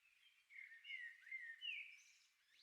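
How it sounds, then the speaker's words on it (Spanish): Birds sing in a flower garden: faint, bright chirping phrases that rise and fall over a couple of seconds, heard alone without voices. "Escucha el canto alegre de las aves."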